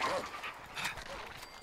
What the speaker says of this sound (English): they're cute little doggies